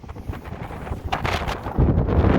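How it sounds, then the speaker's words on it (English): Outdoor wind buffeting a microphone near rock arches, a loud, rumbling roar that swells and gusts for a couple of seconds, heaviest toward the end, with no voices. "I'm sorry for all the wind, so just turn the volume off if you need to"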